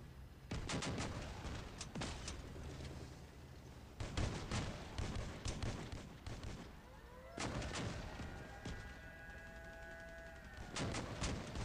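Shotguns fire in the vehicle combat game Crossout mobile, with several sharp, loud blasts in clusters separated by short gaps. A wavering tonal whine rises and falls near the middle, and no one speaks.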